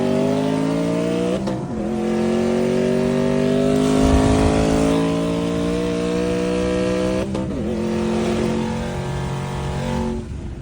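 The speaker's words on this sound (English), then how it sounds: "Tyler, which I'll insert a clip of me gapping the absolute heck out of his C6 Grand Sport with an A&A" Race cars including a C6 Corvette Grand Sport howl past at close range, engines revving high and shifting through gears in sustained loud pulls with brief gaps between shifts.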